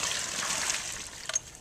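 Water poured from a homemade well bailer bucket into another bucket, a steady close trickle and splash that swells briefly near the end.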